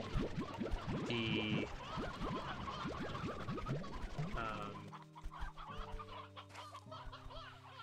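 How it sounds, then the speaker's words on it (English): Chickens cluck in the Slime Rancher 2 video game, with a few short clucking bursts mixed into busy game sounds, chimes and music. The clucking is fairly close and moderately loud. "I'm gonna grab a bunch of chickens"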